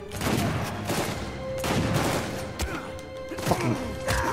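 Gunfire in an Uncharted 4 firefight, with dense rapid shots, crashes and thuds layered over continuous game noise and music, loud and close throughout.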